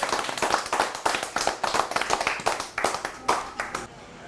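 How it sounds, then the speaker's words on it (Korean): Meeting attendees clap together in a short burst of applause at the close of a local government meeting, a dense run of hand claps that thins out and stops near the end. "큰 박수로 오늘 회의를 마치도록 그렇게 하겠습니다"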